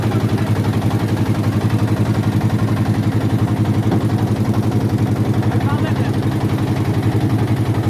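A trawler's engine runs on a hired boat trip toward Sada Pathor in Bholaganj, Sylhet, a steady rapid low chugging throb, loud and close throughout, with voices talking over it.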